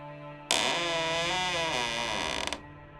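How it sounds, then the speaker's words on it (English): A door swings slowly open with a loud, drawn-out creak lasting about two seconds, its pitch wavering and ending in a few rapid clicks before quiet returns. "The door opens slightly with a loud creaking sound."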